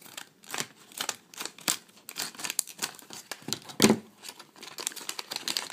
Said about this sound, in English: So we'll cut open the first one.